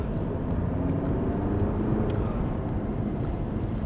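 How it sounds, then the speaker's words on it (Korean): A Volkswagen Golf 8 diesel eases off and then accelerates again, its engine drone and road noise rising steadily from inside the cabin, with no talking over it. "잠깐 줄였다가 가속 페달을 밟습니다"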